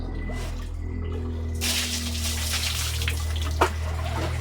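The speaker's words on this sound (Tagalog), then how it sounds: "nag-agas ang tubig" Water running from a household tap, a steady hiss that starts abruptly partway through over a constant low hum, with a brief clatter near the end and no talking.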